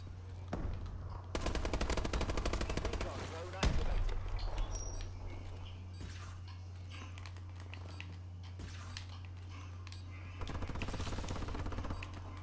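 Automatic turret machine-gun fire in a warbirds video game, sustained dense bursts starting and stopping across the clip, loud and close over a steady low hum, with a voice talking at times.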